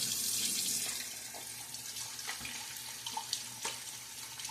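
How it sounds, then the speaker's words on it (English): Tap water runs into a shaving bowl to rinse out a shaving brush at a bathroom sink, a steady close hiss and splash with small sloshing bursts and no talking. "Another reason I like the bowl is I can run water in the bowl,"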